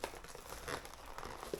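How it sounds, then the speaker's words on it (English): The plastic cover on a new RK Royal Kludge S98 full-size keyboard crinkles and rustles in soft, scattered bursts, quiet and close, with no talking. "Okay, it's protected pretty good. Got a plastic cover."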